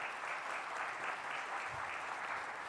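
Steady applause from a church congregation at an ordination service fills the whole stretch, a dense even patter of many hands clapping at moderate volume.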